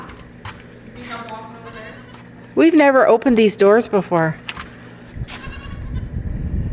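Goats bleating inside a barn behind opened doors, a loud burst of harmonic cries in the middle, with people talking before and after.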